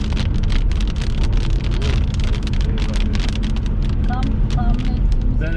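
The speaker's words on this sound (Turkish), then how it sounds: "Bereketli yağmur." Heavy rain drums steadily on a moving car while driving on a highway route through Hungary, Austria and Germany, with constant road and tyre noise underneath and people talking over it.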